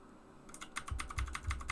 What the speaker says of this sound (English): This is a keyboard.